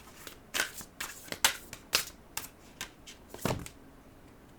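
Shamanic medicine oracle cards shuffled close by during a tarot-style reading, a quick series of soft riffling and flapping bursts in an uneven rhythm with no talking.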